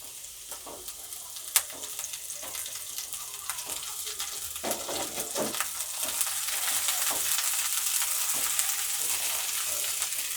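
Green chilies frying in hot oil for an eggplant curry with kumro bori, a steady hiss that builds louder over time, with occasional stirring clacks and one sharp tap early on.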